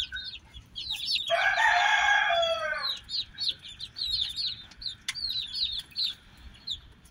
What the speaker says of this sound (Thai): สำหรับไก่หน่อยชุดนี้ครับอายุก็ประมาณ1เดือนน้อยๆแล้วครับ